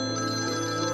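A telephone rings with an incoming call, a sustained electronic tone with steady harmonics that fills the whole moment, clear and close, with no speech over it.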